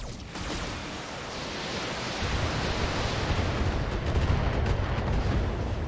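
Artillery barrage pounding enemy turrets in the PC strategy game BattleTech, a sustained dense rumble of explosions with crackling impacts, loud and continuous throughout with no talking.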